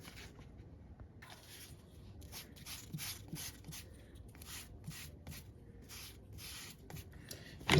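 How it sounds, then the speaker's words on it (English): Brush spreading Mod Podge glue onto a chair piece, heard as repeated soft, hissy swishing strokes in irregular bursts, quiet and close, with no talk. "We're going to Mod Podge it, glue it down, and do the other side."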